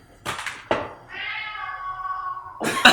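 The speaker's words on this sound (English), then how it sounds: "He gave a meow." A pet cat named Paz gives a single drawn-out meow, close and clear, bracketed by short kitchen clatter and noise before and after.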